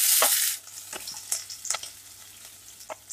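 Finely chopped garlic and green chilies hit a hot pan with bay leaf already in it, giving a loud burst of sizzling that quickly settles into a softer fry punctuated by several sharp stirring clicks.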